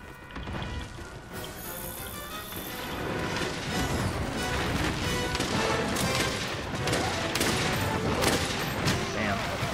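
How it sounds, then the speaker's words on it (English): Shotgun loaded with spread rounds fires in Monster Hunter World during a four-player Nergigante hunt: dense, loud blasts and impacts in a continuous chaotic barrage, with game effects and a voice underneath. "Reload the shotgun. Blasting some spread rounds into his face."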